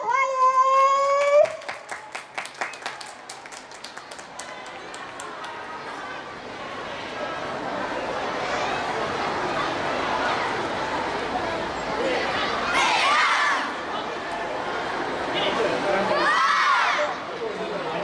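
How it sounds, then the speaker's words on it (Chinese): Sustained applause from a crowd at a school sports day welcomes an elementary school taekwondo club performance, with dense clapping and murmuring that swells and holds after a short burst of music-like tones. "掌声欢迎"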